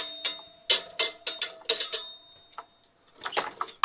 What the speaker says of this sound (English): And we have a little triangle bell.